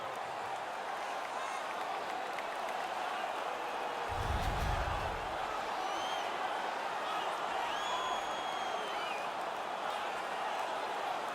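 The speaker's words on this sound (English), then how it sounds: "The crowd is now engaged again." Crowd noise in an NHL 19 hockey arena after a fight, a steady distant roar with a brief low thump midway, faint overall.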